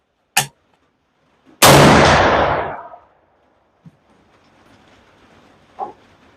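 A 400 Legend rifle firing a Winchester 215-grain Power Point round outdoors lets off a single loud, sharp gunshot with a long decaying roar. A smaller click comes before it, and faint distant knocks follow.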